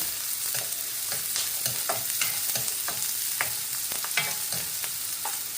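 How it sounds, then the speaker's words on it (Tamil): Small shallots sauté in hot oil for a Jaffna-style goat liver pepper curry: a steady close sizzle with repeated scraping stir strokes throughout, and no voices. "இப்போ இந்த சின்ன வெங்காயம் வந்து நல்லா வதங்கட்டுக்கும்"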